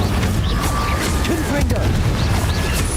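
An Incendio fire spell cast in the Hogwarts Legacy video game: a loud, dense whoosh and rumble of magical fire with a few sharp bursts, continuous and close throughout.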